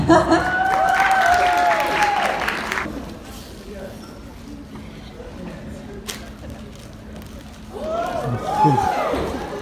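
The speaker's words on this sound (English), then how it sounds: "Okay, now you can clap." A high school assembly audience bursts into applause and cheers, loud at first and fading out after a few seconds, then a second swell of clapping rises near the end.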